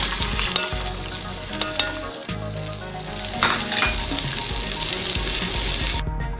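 Onions sizzle and crackle steadily in hot oil for a mutton tikka biryani, a dense, loud frying hiss with occasional stirring scrapes that runs the whole time with no talking.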